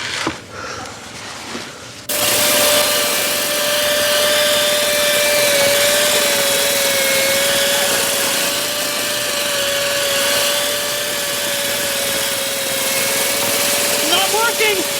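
A steady, loud whining drill runs continuously from about two seconds onward, holding a sustained tone, while people talk over it.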